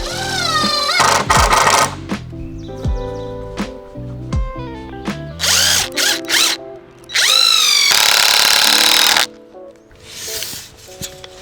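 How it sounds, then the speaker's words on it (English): A power drill boring pocket holes in wood through a Kreg pocket hole jig, several loud whining bursts of varying length with short gaps and clattering handling sounds between them. "This will allow me to pre-drill some pocket holes"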